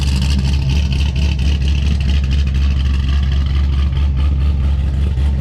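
A Chevrolet C6 Grand Sport Corvette sits running as it warms up, its steady low engine rumble close and continuous with a faint upper whir and no talk.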